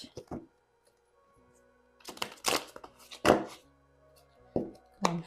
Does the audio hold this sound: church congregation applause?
no